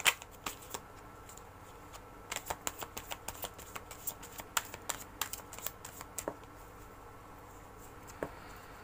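Tarot cards being shuffled, a run of crisp riffling snaps and flutters in uneven bursts, close and fairly quiet with no voices.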